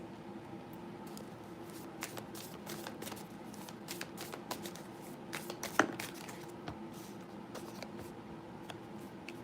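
Lightseers tarot cards being shuffled by hand, a steady run of close, soft riffling and sliding card sounds with small clicks throughout, no voice.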